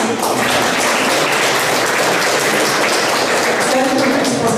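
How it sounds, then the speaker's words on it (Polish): An audience applauds steadily at a painting biennale summary event in a university gallery, dense sustained clapping filling the room throughout without a break. "Brawa"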